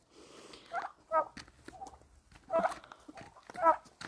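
Domestic turkeys gobble in short bursts, several close calls spaced a second or so apart, with quiet rustling between them.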